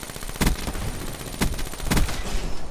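Video game gunfire: a steady rattling stream of automatic shots with a few heavier thumps standing out, dense and continuous throughout, no voices.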